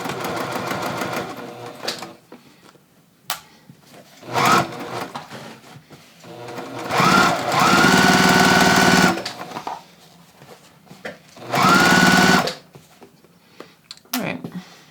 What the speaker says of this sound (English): I'm just gonna stitch down at 1/2 inch